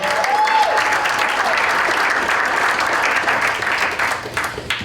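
A hall of fame induction ceremony audience applauds in a hall, a loud, dense, steady wash of clapping that lasts throughout and tapers slightly at the end.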